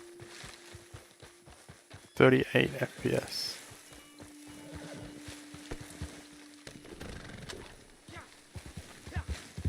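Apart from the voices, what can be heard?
horse galloping in video game Red Dead Redemption 2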